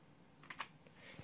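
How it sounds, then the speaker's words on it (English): A few faint, separate key presses on a computer keyboard while reinstalling Windows XP on an old computer, with two clicks close together and a softer one after, quiet and alone. "we'll press the D key on the keyboard to delete that partition"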